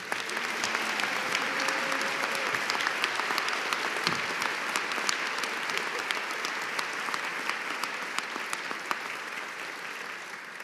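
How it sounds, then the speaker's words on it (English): Audience applause rings out at a university school of public health commencement ceremony, a dense, sustained clapping from a large crowd that holds steady for about ten seconds and tapers slightly at the end. "Now you can clap."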